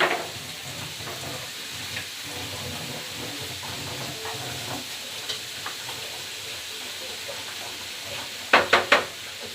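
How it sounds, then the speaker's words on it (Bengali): Bitter gourd fries on a high flame in a steady, hissing sizzle with small crackles and stirring scrapes, then three sharp metallic clacks in quick succession near the end. "এটা হাই ফ্লেমে ভাজতে হয়।"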